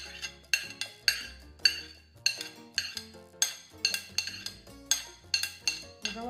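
A knife chops onion finely on a board in a steady, even rhythm of about a dozen crisp, clicking strokes, close and alone without speech.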